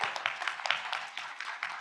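An audience gives a short round of applause for the speakers at the close of a conference session, the soft scattered clapping sounding somewhat distant and quiet.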